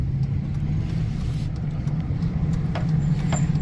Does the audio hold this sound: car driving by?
yes